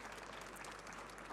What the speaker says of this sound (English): So I would like to give another round of applause to our panelists.